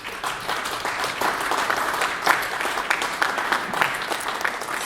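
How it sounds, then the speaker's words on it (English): Audience applause at a gala, a sustained wash of clapping with individual claps standing out, fairly close and continuous with no speech over it. "So that applause is all for Dorothy."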